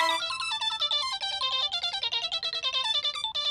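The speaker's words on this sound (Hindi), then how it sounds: "चाचा का फिर से फोन आ रहा है" An incoming call sets a phone ringtone chiming, a bright rapid melodic pattern of repeated electronic notes playing loud and alone without pause.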